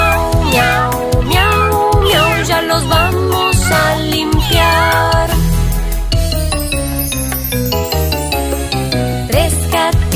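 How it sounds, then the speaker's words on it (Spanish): Playful meows from naughty kittens ring through a bright Spanish-language children's song, the cat-like cries sung by voices over steady, jingly music from start to finish. "Traviesos gatitos ensuciaron sus guantes y ahora empiezan a maullar."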